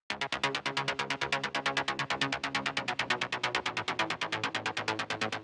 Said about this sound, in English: this is what the bassline highs sound like